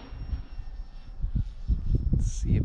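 A small engine on a Freewing Pandora model airplane buzzes steadily overhead, rising and falling slightly with steady wind noise underneath, moderately loud throughout.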